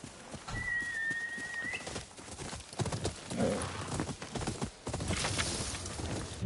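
A horse's hooves clip-clop steadily in a video game, a brisk rhythmic trot over ambient game sounds with a short whistle-like tone early on.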